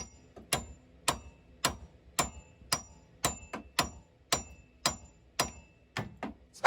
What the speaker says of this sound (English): We're just going to hammer this thing, give it the beans.